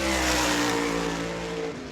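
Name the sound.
race car on qualifying lap at New Smyrna speedway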